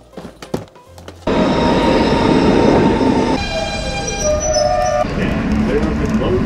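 The AirTrain at JFK Airport rolls loudly past with a steady roar and high metallic squeals, after a few quiet seconds of indistinct background talk in the station.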